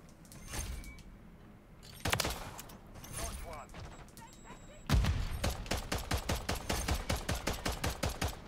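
Cor-45 gunfire in Call of Duty: Modern Warfare III: a few scattered shots and short bursts early on, then a fast, evenly spaced string of loud shots near the end.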